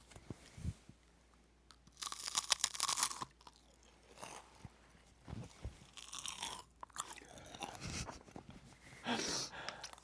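Loud crunching bites of crispy food, several bursts of chewing with short pauses between, close to the mic, with a brief sigh.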